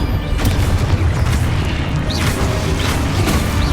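Confringo blasting spells explode in the Hogwarts Legacy game as a dense, continuous roar of booming blasts and crashing impacts, loud and close, with small whooshing spell effects over the top.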